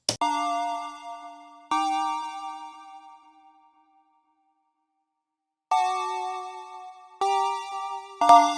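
A synth bell preset called Crystal Bells rings out in a few separate struck chords, bright and glassy, each decaying slowly, with a silent pause before quicker repeated hits.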